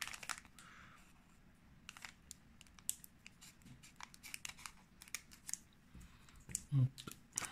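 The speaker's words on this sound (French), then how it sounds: "on va couper tout ça au ciseau pour pas du tout abîmer les cartes" Scissors snipping open plastic Pokémon card packaging, a series of brief close crisp cuts and crinkles scattered over the whole stretch, with a louder snip near the end and faint background noise.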